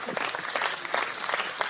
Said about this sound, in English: I'm giving you an applause for putting the bullshit to an end.